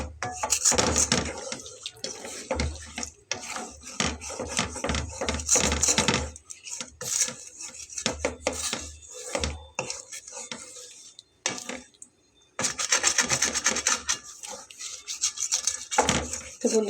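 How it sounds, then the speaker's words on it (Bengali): Metal spatula scraping the sides of a cooking pan while making a small-fish curry with green chilies, a loud close rapid scraping and clanking in bursts with brief pauses. "সাইডে যে লেগে আছে এগুলোকে আমি একটু খুন্তিটা দিয়ে পরিষ্কার করে দিচ্ছি"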